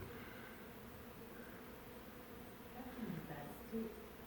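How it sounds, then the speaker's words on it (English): A faint, low hum of bees droning inside an enclosed space, with a soft voice murmuring briefly partway through. "you can hear the bees."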